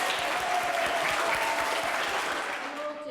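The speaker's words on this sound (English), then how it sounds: "Give them a clap. Well done." Schoolchildren in a school assembly clap for classmates, a dense, even burst of applause from a roomful of small hands that holds steady for a few seconds before easing slightly at the end.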